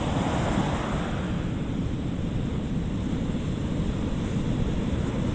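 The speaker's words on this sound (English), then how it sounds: "This is gonna suck though if those waves come up any higher" Ocean waves surging close by on a cold night shore at full moon, a continuous loud wash of surf mixed with wind buffeting the microphone.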